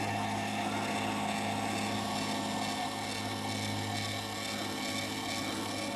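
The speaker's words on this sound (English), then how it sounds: "That motor and gears definitely sound a lot better this time than it did last time." A Celestron telescope mount slews under motor drive, producing a continuous steady whir and gear hum at low level with no talking, unchanging throughout.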